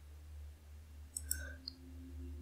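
Computer mouse clicks selecting curves in FreeCAD's Curve workbench while modeling an Audi TT MK3 fender: a few quick, quiet clicks near the microphone over a steady low electrical hum.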